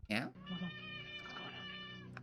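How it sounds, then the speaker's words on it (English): A talkative cat meowing loudly, one sharp close cry followed by a long drawn-out wavering yowl. "That's a very loud cat. Very talkative."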